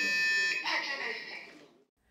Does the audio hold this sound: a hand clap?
no